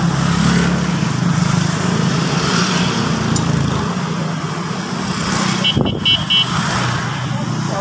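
A loud engine-like drone fills the scene, then a short electronic e-bike horn beeps a few quick times near the end.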